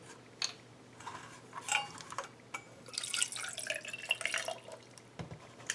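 King Island coconut water poured from a carton's spout, a soft trickling splash with faint drips and light clinks from a glass, fairly quiet and intermittent, heard alone.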